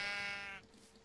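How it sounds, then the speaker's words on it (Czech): A sheep bleats in a video game, one loud, wavering cry lasting about half a second and then cutting off abruptly into quiet background. "A ovce, pojď sem ty."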